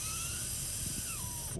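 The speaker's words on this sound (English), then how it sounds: "you can hear the air coming out of it now" Compressed air hisses steadily out of a freshly cleared line, a loud, continuous broadband spray that runs unbroken and cuts off abruptly at the end.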